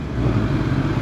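A Kawasaki ZX10R sport motorcycle on the road gives a loud, steady engine roar heard up close for about a second, with no voices.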